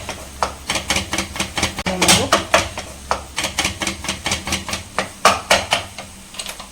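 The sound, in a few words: chopping almonds, cashews and pistachios with a knife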